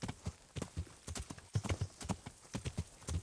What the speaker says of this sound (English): You can ride for a lot longer without having the horse get upset.